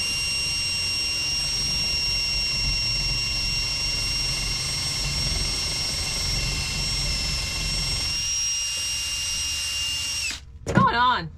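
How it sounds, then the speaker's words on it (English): A DeWalt power drill whines steadily at high speed for several seconds, then winds down, followed by a brief rattling spin-down near the end. "Too big of a drill. We need another bit."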